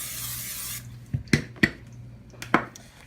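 Cooking oil spray hisses into a bowl in one short, close burst, then several sharp clinks and knocks of the bowl follow in the quiet.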